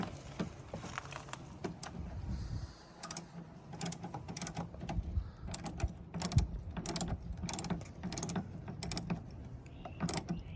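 Small mechanical clicks and ratcheting ticks from a screwdriver removing a little Phillips head screw on a tow mirror of a 2017 Toyota Tundra, close and irregular with faint rustling between.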